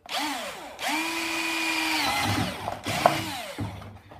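A power drill whirs up in two bursts, its motor pitch rising and holding, then spinning down, with a brief clatter between.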